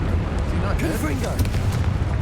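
A Confringo fire spell blast in Hogwarts Legacy, a loud, rumbling explosive burst that rolls on through the whole moment alongside game effects, with a person talking over it.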